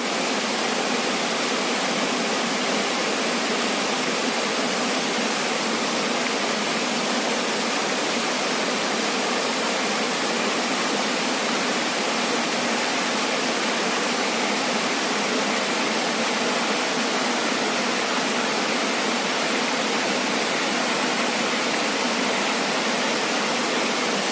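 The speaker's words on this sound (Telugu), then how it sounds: "చూడండి సందులకెళ్ళి వస్తున్నాయి వాటర్." Floodwater from the Akunoor waterfall rushes through narrow village lanes, making a loud, steady roar that continues unbroken with no voices.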